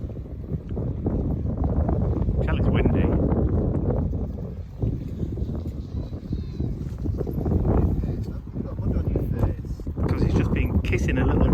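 Wind gusts roar across the microphone at the shore with waves coming in, a steady, buffeting rush rising and falling throughout with no clear voices.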